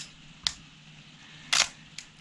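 A Praktica B100 SLR film camera's shutter fires up close: a soft click, then a louder mechanical clack about a second later, and a light third tick closing it out, all in a quiet room.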